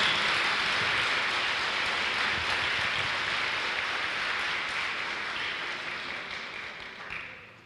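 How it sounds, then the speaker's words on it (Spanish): A church congregation applauds during a Catholic sermon. Dense, hissing clapping holds steady at a loud level, then slowly fades toward the end, with no voices over it. "Denle un fuerte aplauso a la iglesia católica, nuestra iglesia que amamos."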